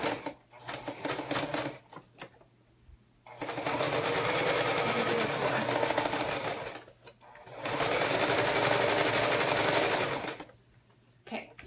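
A sewing machine stitching the second side of a zipper runs in two long, steady bursts of rapid mechanical chatter, with brief pauses and a short start between them, close and loud.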